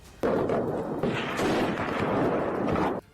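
Heavy gunfire from an attack on Pakistani soldiers erupts suddenly and continues as a dense, loud barrage for about three seconds, then cuts off abruptly.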